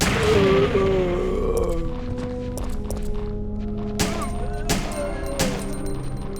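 Explosion and gunfire in Resident Evil 3 Seamless HD Project, a booming blast at the start followed by scattered sharp gunshots and thuds amid zombie groans, loud and close with no talk.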